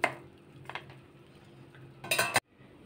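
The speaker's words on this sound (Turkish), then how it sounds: "tamamen suyunu geçirene kadar kaşıkla bastırıyorum" A spoon clinks and scrapes against a strainer and bowl, pressing pomegranate seeds to push out the juice for homemade pomegranate juice, in a few short bursts ending in a louder run of metallic scraping, close and without talk.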